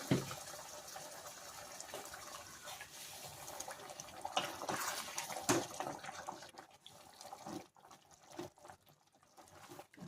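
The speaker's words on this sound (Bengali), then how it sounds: "এরপর আমি এতে একটু জল দিয়ে দেবো, যতটা ঝোল রাখতে ইচ্ছে আপনাদের" Water is poured into a prawn and young jackfruit curry in a pan, giving a steady broadband splashing and trickling that runs for several seconds, then fades into intermittent clinks and stirring sounds with no talking.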